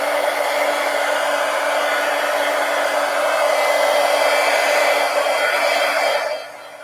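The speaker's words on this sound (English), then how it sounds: "Let me hit this with the heat gun, make sure it's dry before I try to go around the edge with a gel pen." A heat gun blows steadily at close range while drying watercolor paint, a loud continuous whooshing hum with a faint tonal whine that holds for several seconds before cutting off near the end.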